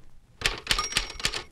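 A manual typewriter during a carriage return: four sharp, evenly spaced mechanical clacks in quick succession, close and crisp, with a brief ringing tone among them and no voices.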